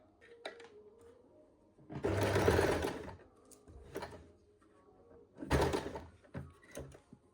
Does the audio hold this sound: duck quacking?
no